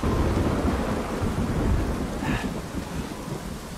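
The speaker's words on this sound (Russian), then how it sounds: "что ветер дует, дождь еще такой косой ровно в спину" Stormy weather in the video game Uncharted 4: heavy rain and wind roaring continuously up close, with a low rumble of thunder rolling underneath, no speech.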